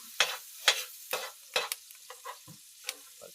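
A pan sauté, with a spatula scraping and stirring in a series of sharp, evenly spaced strokes over a faint sizzle, close and alone.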